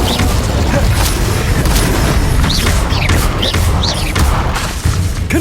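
Fiery spell bursts from Incendio and similar combat casts in Hogwarts Legacy, a dense run of loud booming blasts and crackling impacts with whooshing swells throughout, no gaps between hits.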